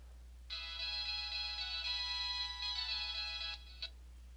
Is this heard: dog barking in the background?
no